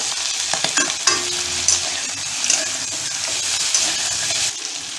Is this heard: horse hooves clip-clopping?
no